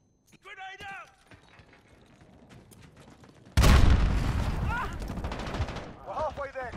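A grenade blast in Call of Duty: Modern Warfare, a loud booming hit followed by sustained gunfire and battle noise, with shouted in-game voices before and after the explosion.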